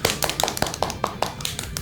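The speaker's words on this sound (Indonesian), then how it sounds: "beri tepuk tangan buat kelompok 2" Classroom applause for student group 2, a run of about eight sharp, evenly spaced claps ringing out close and loud over a low murmur of background chatter.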